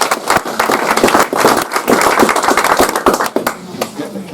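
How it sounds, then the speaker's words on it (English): An audience at an evening talk breaks into steady clapping, many hands at once, with a few voices and laughter underneath. "Get the clapping before we get the booze."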